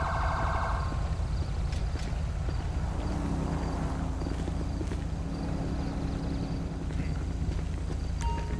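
Ambulance siren in the video game Grand Theft Auto V, a wailing electronic tone over steady game engine and traffic noise, with clopping and other game sounds mixed in and no talking.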